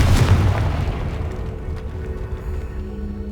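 A Confringo spell blast in the Hogwarts Legacy video game, a loud low boom at the start that decays into a rumbling tail and lingering resonant hum.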